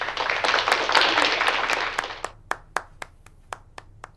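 Audience clapping for a woman's question about politics, dense applause for about two seconds that thins into a few isolated, sharp hand claps spaced out before stopping.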